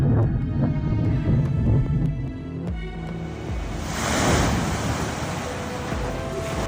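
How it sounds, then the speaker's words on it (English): Large ocean waves surge along the Long Beach shoreline toward homes, a loud, steady broadband roar of surf with swelling crests, no voices. "Large waves repeatedly approached homes along the Long Beach shoreline"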